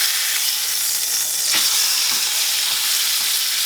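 Chuck roast searing in a hot pan just after being flipped over, a steady loud sizzle and frying hiss with a brief flare of spattering, heard alone.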